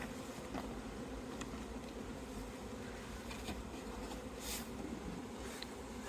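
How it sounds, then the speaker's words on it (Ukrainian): Honeybees buzzing on hive frames after being shaken off in late autumn, a faint, dense, steady hum of many bees with no voices. "стрясаємо бджілок, які зараз зберуться на рамках"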